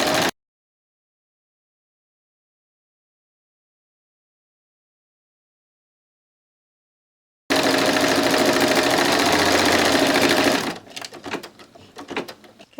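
An embroidery machine runs a decorative stitch on an in-the-hoop paper-pieced quilt block: silence, then about three seconds of loud, steady mechanical whirring that stops abruptly, followed by a few softer clicks and knocks.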